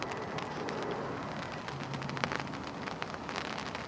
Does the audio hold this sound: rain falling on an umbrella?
yes